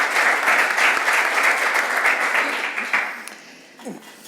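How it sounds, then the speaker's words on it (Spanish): Audience applause at a conference panel bursts out loud and dense, holds for a few seconds, then thins and fades away, with a faint voice near the end. "Un aplauso, por favor."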